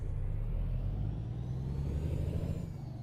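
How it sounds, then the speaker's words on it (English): A deep, steady International 9900 truck engine in American Truck Simulator rumbles at a constant idle-to-cruise pitch, low and continuous with no talking. "truck sounds really good though"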